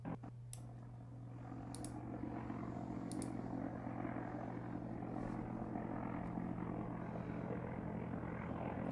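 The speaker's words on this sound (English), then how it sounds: "Additional footage of low-flying helicopter in the general area." A low-flying helicopter drones steadily nearby, its rotor and engine holding a constant low hum with faint rhythmic clicks overhead and no voices.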